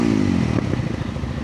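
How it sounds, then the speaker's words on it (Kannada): Motorcycles rev their throttles at the start of an off-road trail trip to Gavi Betta near Sakleshpur, a loud close engine roar that climbs then breaks into rough clattering idle. "boys full ಜೋಶಲ್ಲಿ throttle ರೆವ್ ಮಾಡ್ತವ್ರೆ"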